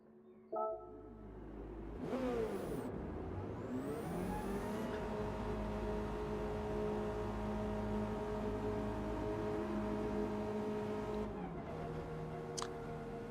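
A Subaru BRZ race car engine in Gran Turismo racing at Interlagos drones steadily at high revs, with gear-shift pitch sweeps early on and a drop near the end, alone without talk.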